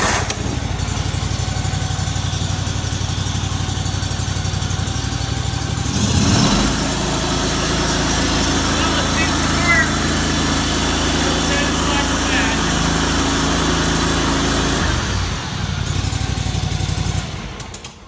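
A John Deere GX325 garden tractor engine fresh from a fuel line replacement cranks, catches and settles into a steady, close idle for most of the stretch before shutting down, with a voice speaking over it.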